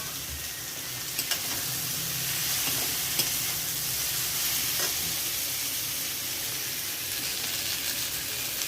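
Fried cauliflower and potatoes are tipped into a pan of sizzling spice masala with asafoetida, ginger, garlic, chili, turmeric and cumin, giving a loud, continuous hissing fry close by, broken by a few soft scrapes and clinks of stirring.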